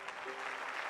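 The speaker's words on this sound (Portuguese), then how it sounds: "Aplauda Ele bem forte, porque o Senhor é contigo." Congregation applauding in a church service: a dense, continuous patter of clapping, moderately loud and steady for the whole brief moment.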